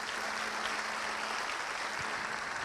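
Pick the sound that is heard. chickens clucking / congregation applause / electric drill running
congregation applause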